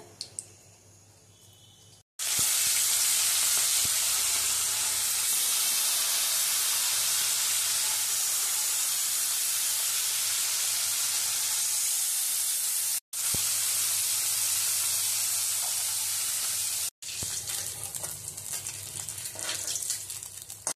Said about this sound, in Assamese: মই সৰিয়হৰ তেল ব্যৱহাৰ কৰিছো মাছটো ভাজি ল'ম আগতে